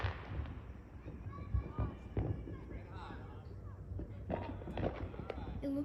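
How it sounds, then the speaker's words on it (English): Fourth of July fireworks bursting at a distance, scattered dull booms and crackles under someone talking nearby. "It's just fireworks."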